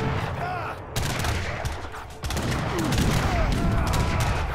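Rapid cannon fire in the video game Age of Empires III booms in repeated bursts amid a dense, chaotic battle din, loud and continuous throughout with no break.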